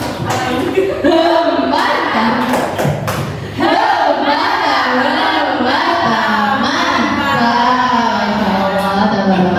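A classroom of students does a rhythmic clap-and-chant cheer. A few sharp claps and thumps come first, then loud group voices chant together close by.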